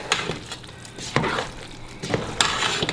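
Grated Parmesan cheese being stirred into a mixture in a pan, with a few soft scraping and clinking utensil strokes against a steady low sizzle, close up and moderately loud, with no talking.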